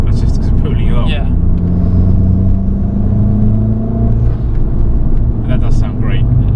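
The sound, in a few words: Abarth 500 car engine while driving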